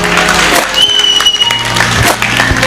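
A crowd applauding at a wedding celebration, dense continuous clapping close by with a voice talking over it and faint music underneath.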